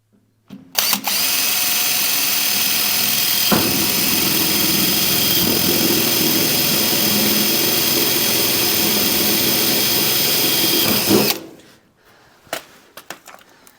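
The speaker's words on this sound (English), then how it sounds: "I obviously got to cut the hole for the brake handle" A power tool cuts a hole for the brake handle on a rail dragster build, running loud and steady for about ten seconds after a short start, then stopping, followed by a few faint clanks.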